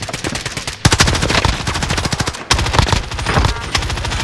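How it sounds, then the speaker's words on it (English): Sustained automatic gunfire in the Call of Duty Warzone video game, dense rapid bursts of shots rattling almost continuously with a brief break, loud and close, no talking over it. "He's shooting at someone else on the right."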